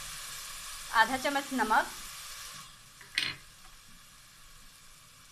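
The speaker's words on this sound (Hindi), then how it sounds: "अब मैं इसमें ये शीरा डाल रही हूँ।" Jaggery syrup poured into vermicelli in a pan, a burst of loud sizzling and bubbling that fades, then one sharp clatter as someone speaks briefly over it.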